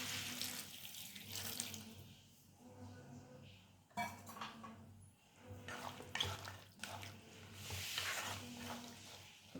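Water pours from a tumbler into a pan of sundakkai (turkey berry) gravy as it cooks, giving a soft, uneven splashing and trickling that runs in bursts, faint and close.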